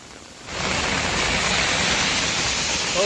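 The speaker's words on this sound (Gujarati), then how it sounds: "છેલ્લા 20 મિનિટથી ડીસામાં જે ધોધમાર વરસાદ શરૂ થયો છે" Heavy monsoon rain pours down in Deesa, starting as a softer hiss and swelling after half a second into a dense, steady roar that continues loud and unbroken to the end.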